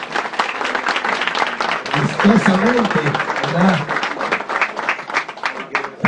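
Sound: audience applause at political event

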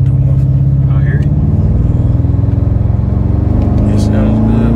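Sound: Impala SS engine revving through straight-through mufflers

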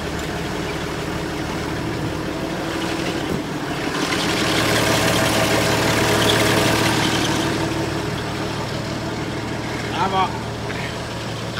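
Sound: tractor engine idling

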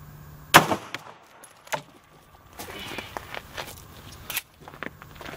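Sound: 9mm Liberty Civil Defense round shot into ballistic gelatin

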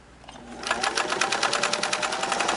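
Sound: Singer 329K sewing machine sewing seven layers of denim

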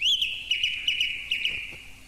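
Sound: birds chirping, sound effect in a radio play

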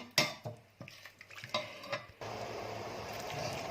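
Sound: canned-fish curry sauce boiling in a pot

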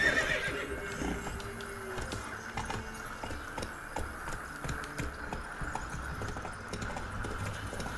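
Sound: horse neighing in a video game

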